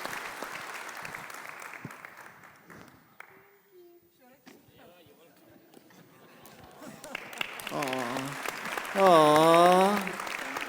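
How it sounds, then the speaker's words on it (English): A church audience at Fontainebleau Community Church applauds in a steady patter that fades over several seconds. Voices and a sung, wavering tone then take over near the end. "Let's clap for Lerato."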